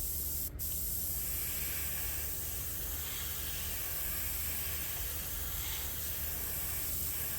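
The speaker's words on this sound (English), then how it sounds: "This spraying so nice right now." Paint spraying from a sprayer makes a steady, close, even hiss that runs for the whole stretch with one brief click near the start.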